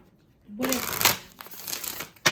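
A quick riffle and rustle of oracle cards being shuffled nearby, following a brief hum, with a soft crinkling tap at the end.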